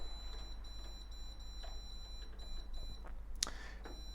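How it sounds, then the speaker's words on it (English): An air fryer being switched on and set to 200 degrees gives a single short, clear electronic beep near the end, with faint clicks and a low hum around it. "I'm going to preheat the air fryer, so I'm going to turn it on"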